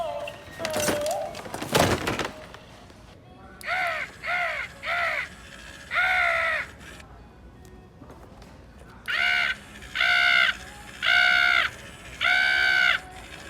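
A Halloween animatronic crow in a bird cage caws loudly in clipped, evenly spaced series of harsh calls, after some clattering and thumping handling noises at the start.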